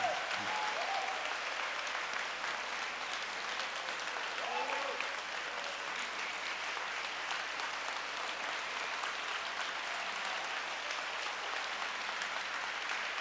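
Sustained, dense audience applause fills a large hall at a Korean-American clergy association revival meeting, steady and loud throughout with no break.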